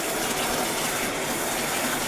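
Water gushing steadily from a tap into a tub for an ice bath, a loud continuous broadband splashing rush with no talk.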